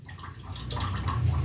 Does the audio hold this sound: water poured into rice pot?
yes